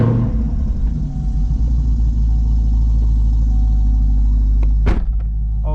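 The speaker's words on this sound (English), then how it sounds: "let me start this car" Chevrolet Camaro ZL1 1LE with LT4 V8 engine starting up and settling into a loud, deep idle rumble, with a brief sharp click near the end.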